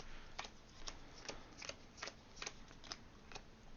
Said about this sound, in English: we're going to do some pile shuffling